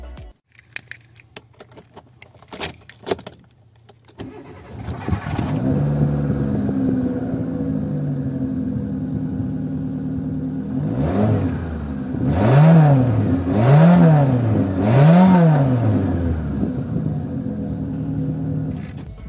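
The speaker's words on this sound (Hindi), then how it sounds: "जो हमें अभी साइलेंसर बिठा है उसका जो साउंड है मैं आपको सुनाता हूँ" A Hyundai Santro Xing runs with a newly fitted exhaust silencer: a few clacks, then a low, steady idle rumble, followed by three rising and falling revs, loud and close.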